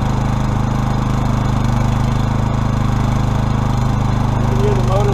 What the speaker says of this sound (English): You can hear the motor bog down a little bit.